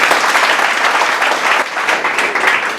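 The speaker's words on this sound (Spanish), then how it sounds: "con un muy fuerte aplauso cedo la palabra a Fernando Paz" Loud, close applause from a lecture audience welcoming a speaker, dense clapping with slight surges and dips throughout.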